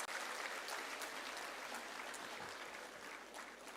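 Audience applause rings out after a soulful musical tribute by music teachers at a Gandhi Jayanti celebration, a dense, steady clapping that fills the hall from start to finish.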